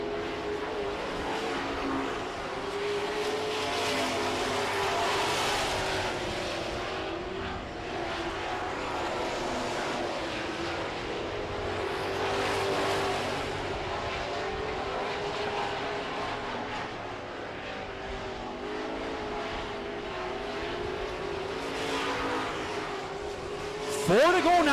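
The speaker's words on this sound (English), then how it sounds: "The Searcy Super Trucks on the track with 3 laps" Super Truck division race trucks circling a short track during a 2014 heat race, a steady loud engine roar with rising and falling swells as the trucks pass, and a commentator talking over it.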